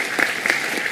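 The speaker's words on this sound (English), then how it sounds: "Why are you clapping?" A brief burst of clapping, a few hands pattering quickly and fairly close, lasting under a second.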